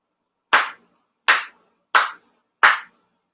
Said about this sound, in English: Four sincere claps with the officiant.